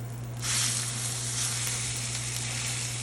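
A NY strip steak sears in a cast iron pan with a loud, continuous sizzle that swells suddenly and then holds steady and close, with a low constant hum underneath.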